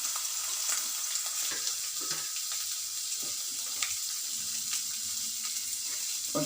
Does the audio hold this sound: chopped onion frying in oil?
yes